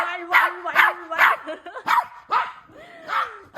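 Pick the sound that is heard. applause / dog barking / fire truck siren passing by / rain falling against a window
dog barking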